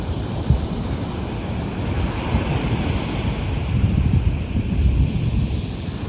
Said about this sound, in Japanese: 波が強すぎて